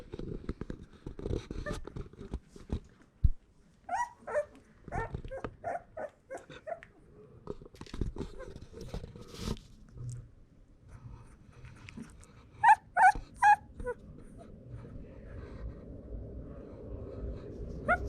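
Young puppies whimpering and giving short high yips, scattered thin cries between quiet gaps and rustling, close by, with a burst of several sharp yelps near the end over a low hum.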